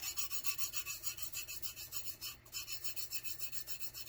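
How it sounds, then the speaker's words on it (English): Vinyl wrap being rubbed down by hand to smooth it, a close, quiet rasping stroke repeated in a steady back-and-forth rhythm of about four per second, heard alone with one brief pause midway. "you just want to rub it off"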